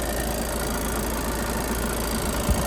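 The 2.0 engine of a 2019 long-wheelbase Volkswagen Transporter idles with a smooth, steady hum and faint mechanical ticking, close and constant, with one brief knock near the end.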